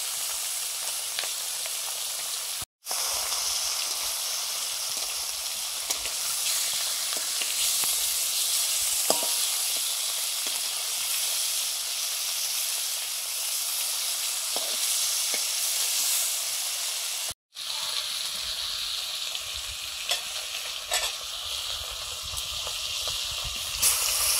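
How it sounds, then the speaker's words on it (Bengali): Rupa fish frying in a wok gives off a loud, steady sizzle that runs almost unbroken, interrupted only by two very brief gaps. "এই কড়াইতে ভাজছি রূপা বেটে মাছগুলো"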